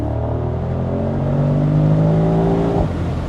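Maybach SL 680 with a twin-turbo V8 accelerating hard from inside the cabin, a loud, steady engine drone climbing in pitch over about three seconds before easing off near the end.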